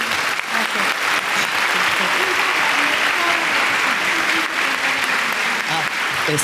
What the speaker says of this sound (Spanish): me gustaría que le dieran un fuerte aplauso a la doctora